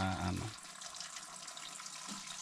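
Water streams into a pot to make a single cup of coffee at a lakeside wilderness camp. A short, louder splash opens, then a steady trickle and patter continue close by with no talk over it.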